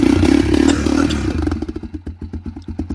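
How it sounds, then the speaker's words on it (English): A Yamaha Banshee ATV's rebuilt engine with dual exhaust revs with a dense, raspy drone, then drops into a choppy, popping idle of rapid, evenly spaced exhaust pulses, close and loud. "That's a badass bike, dude. Dual exhaust."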